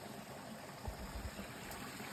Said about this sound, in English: So there's your miniature waterfall, Edric, right there.